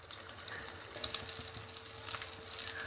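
Aloo tikki potato cutlets sizzle softly in hot oil, a faint, steady crackle with scattered small pops and no voices.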